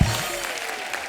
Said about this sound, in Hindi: आइए जोरदार तालियां हो जाए